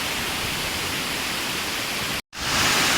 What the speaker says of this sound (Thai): น้ำตกผาสวรรค์มีทั้งหมดเจ็ดชั้น